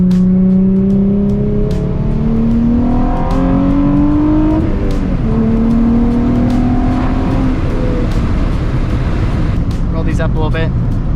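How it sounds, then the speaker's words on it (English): A Nissan 350Z sports car engine revs up repeatedly through the gears, loud and close, its rising tone climbing and dropping in several pulls. "a lot of people say that the 350z engine sounds pretty trumpety"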